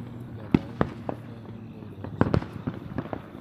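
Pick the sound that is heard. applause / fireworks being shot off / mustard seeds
fireworks being shot off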